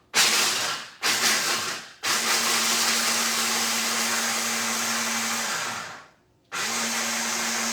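A kitchen blender grinding ingredients for a tarte tatin: two short pulses, then a long steady whirring run that winds down, then another burst, loud and close.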